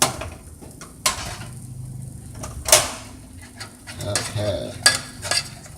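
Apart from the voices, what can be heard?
hot pan moved on the stove, food sizzling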